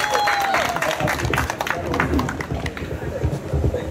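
An outdoor crowd applauds to welcome the association president at a music academy field outing, with a steady wash of clapping mixed with crowd murmur and voices throughout.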